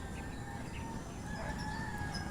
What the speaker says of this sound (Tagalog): Ayan nag-iingayan yung mga manok ng kapitbahay.